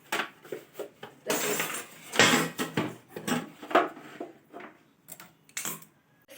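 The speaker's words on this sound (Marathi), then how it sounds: "भांडी सगळी उचलून घासायला टाकली" Clattering of dishes and utensils being picked up and set down for washing, irregular knocks and clinks with short pauses between, close by.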